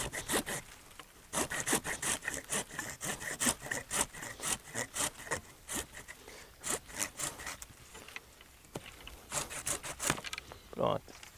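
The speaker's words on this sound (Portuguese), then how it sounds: "a gente usa o serrote mesmo." A hand saw rasps back and forth through a thick peach tree branch during pruning, steady rhythmic strokes, close and fairly quiet, with brief pauses between bursts of sawing.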